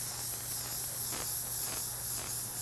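A TH Iwata airbrush blows a steady stream of air over freshly sprayed metallic plating paint to dry it, giving a continuous close, even hiss with no pauses and no voices.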